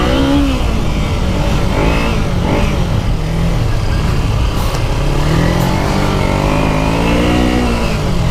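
A Dirt Ninja 250 motorcycle ridden in the desert, its engine close and loud, revving up and down in continuous rising and falling sweeps with no pause.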